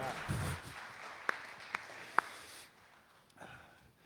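Church congregation applauding during a service, a steady broadband patter for about two and a half seconds with a few sharper claps standing out, then fading to quiet room tone.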